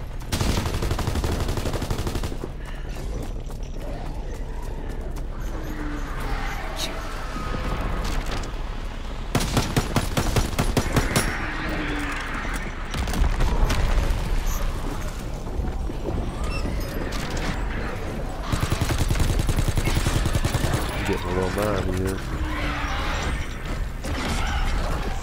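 Machine gun fire in Call of Duty: WWII Zombies, fast rattling bursts amid clanking mechanical sounds and chaotic combat noise, loud and continuous with denser volleys at intervals.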